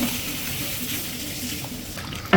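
Washed rice is tipped into a large boiling pot of meat biryani, giving a steady rushing, bubbling wash of water and boil, fairly loud and close, ending in a brief clatter.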